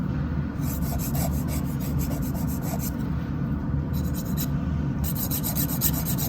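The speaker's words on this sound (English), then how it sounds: "filing back and forth is completely okay" A nail file rasps back and forth across fingernails during a gentle minimal manicure, close and steady rhythmic scratching strokes with brief pauses and no voices.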